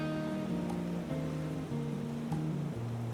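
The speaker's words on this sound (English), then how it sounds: "As waves push air through them, the pipes create constantly changing musical tones." At a Croatian seaside sea organ, waves push air through pipes beneath marble steps, producing overlapping, shifting tonal notes over a soft wash of surf, alone and fairly quiet.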